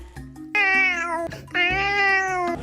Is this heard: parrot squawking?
no